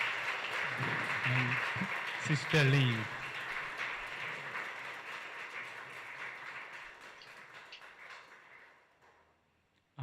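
An audience at an Africa Day 2024 event gives a round of applause, a broad clapping wash that swells under a speaker's voice and then fades away gradually over about ten seconds.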